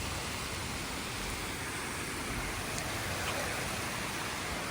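Rain falls steadily in Solapur, a soft even hiss of drops with no distinct events, no voices, and a constant quiet level throughout.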